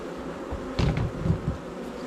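Honeybees buzz in a dense, steady swarm during a honey harvest on the Côte de Beauté, with a few louder passes swelling close by partway through.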